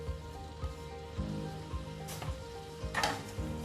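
Onions, tomato petals and capsicum stir-fried in a kadai for restaurant-style kadai paneer, a steady low sizzle with periodic scraping strokes of the spatula against the pan, close and fairly quiet, no talking.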